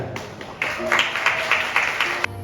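Wedding hall audience applauding as the bride and groom enter, a steady wash of clapping rising and holding for a couple of seconds, with music underneath.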